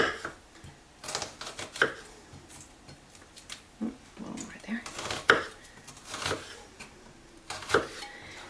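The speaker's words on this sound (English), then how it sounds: "take your knife and you're just going to run it down the middle and create lines" A knife scores lines into an onion on a board, making several soft, separate cutting taps and scrapes close by, with a quiet voice in the background.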